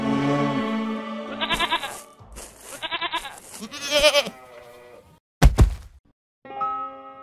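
Cartoon goats bleat in several loud, wavering bursts, one after another, interrupted by a sharp thwacking hit, with a stretch of near silence before a final bleat trails off.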